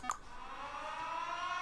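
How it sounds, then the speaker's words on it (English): An air raid siren alarm from a programmable speaker in the video game Factorio rises as a sustained, wavering tonal wail that slowly slides upward, steady and moderately quiet with no voices. "It's sort of the air raid siren one."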